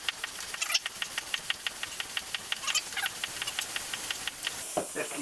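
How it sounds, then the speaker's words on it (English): A track pump inflates a tubeless bicycle tyre in a quick, steady rhythm of short airy hisses and clanks, close and moderately loud, with a faint hiss of air at the end. "I can inflate it quickly enough with this track pump"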